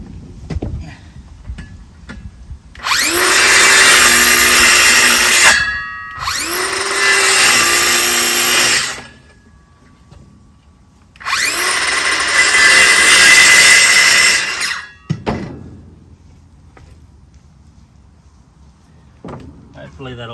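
A power saw cuts timber to fit a new floor in a livestock crush, making three loud, harsh bursts of a few seconds each with quiet gaps between them, then a short clatter near the end.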